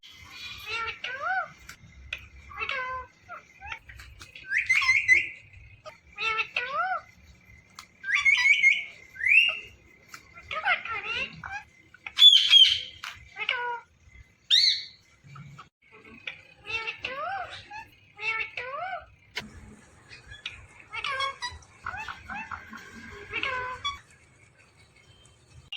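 A ringneck parrot imitates a cat's meow, giving a long run of close, shrill, whistly calls and squawks that rise and fall, with only brief pauses between bursts.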